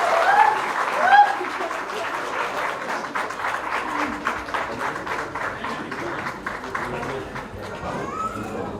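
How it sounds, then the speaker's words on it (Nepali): Audience at an album launch event clapping loudly and steadily, a dense burst of applause that swells near the start and then holds at a lively level, with some voices mixed in. "मेरो लागि पनि यति धेरै ताली आउँछ भन्ने चाहिँ मैले कहिले अपेक्षा गरेको थिएन।"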